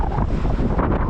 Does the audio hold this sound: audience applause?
no